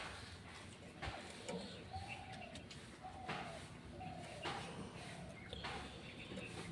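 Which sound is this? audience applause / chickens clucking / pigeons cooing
pigeons cooing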